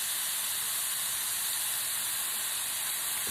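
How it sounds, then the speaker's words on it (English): Brown sugar pork chops sizzling on a hot grill, a steady dense hiss with no breaks, loud and continuous throughout. "You hear it sizzling? That means that this grill is hot"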